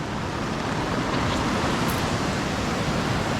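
Nisdi Khola river in heavy flood, a dense, steady roar of rushing water that fills the whole clip at close range without letting up.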